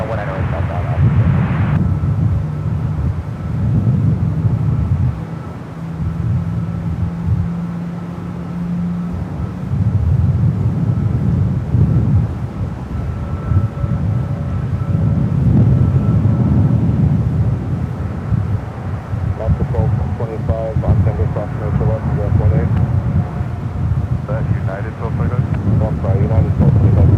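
Airliner departing from a runway at San Francisco International Airport, a steady loud roar sustained throughout with wind buffeting the microphone and a voice talking over it.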